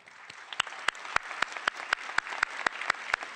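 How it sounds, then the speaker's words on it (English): Audience applauding parents at a middle school promotion ceremony, sparse crowd clapping with one close, loud, evenly spaced clapper standing out in a steady rhythm. "So you deserve a big round of applause."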